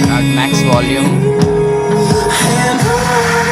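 Song with singing played loud at maximum volume on a Portronics Pure Sound Pro 2 speaker, with a dense full mix and heavy bass carrying steadily throughout.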